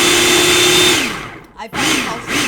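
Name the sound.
blender pulsing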